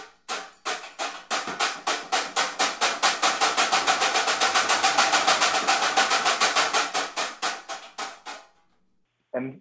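A sheet-metal sound effect used by early trap drummers, folded into a pyramid, gives a fast run of sharp metallic rattling hits that swells louder in the middle, slows and tapers off, then one last isolated hit.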